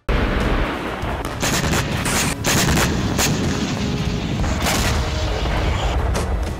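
A distant drone-caused blast in Ukraine followed by a rapid series of sharp, booming cracks, dense and loud, with no voices.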